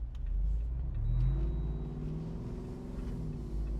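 A 2026 Jeep Wrangler Moab 392 engine runs with a steady low rumble that rises slightly in pitch as it revs, heard alone and fairly close.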